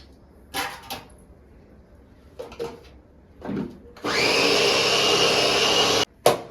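A mixer grinder runs steadily for about two seconds, grinding grated beetroot with a loud, even whir, preceded by a few short knocks and handling sounds, then stops abruptly with a final clunk.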